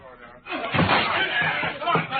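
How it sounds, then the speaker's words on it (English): A locked door being broken in during a fire in an old-time radio drama: a sharp slam-like impact followed by a clattering, crashing burst, heard amid voices. "All right, everybody, we've got to break that door in."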